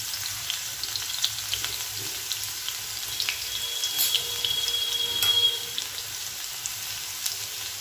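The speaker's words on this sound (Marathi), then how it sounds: "आपण थोडासा लसूण ठेचून घेतलेला आहे, तो घालायचा आहे" Crushed garlic fries with mustard seeds and cumin in hot oil, a steady close crackling sizzle with scattered tiny pops running throughout.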